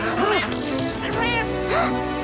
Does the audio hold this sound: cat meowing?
yes